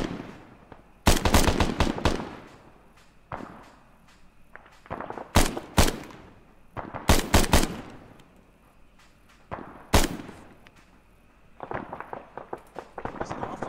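Automatic and single gunfire in the military video game Arma 3 crackles in several loud clusters of rapid shots, with quieter ambient noise and faint footsteps between the bursts.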